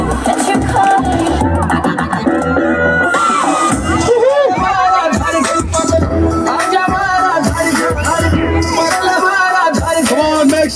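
A lively crowd at a Christmas party game cheers, whoops and shouts continuously and loudly, with excited children's voices and babble throughout.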